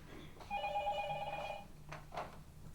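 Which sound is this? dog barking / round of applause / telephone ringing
telephone ringing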